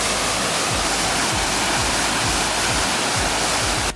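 A small river rushes steadily at the foot of a waterfall at the Devil's Punch Bowl, a loud, unbroken roar of splashing water close by with no talking over it.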